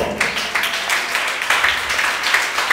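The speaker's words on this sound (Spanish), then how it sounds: "Denle un aplauso fuerte a Jesucristo" A church congregation applauds in a dense, continuous wash of clapping that stays loud and even throughout, with faint crowd murmur mixed in.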